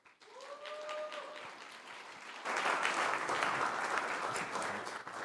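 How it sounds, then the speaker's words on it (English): Applause breaks out from a live event audience, starting moderately behind a brief tonal sound and then swelling into louder, fuller clapping that carries to the end. "Another round of applause for Fast Slow Motion."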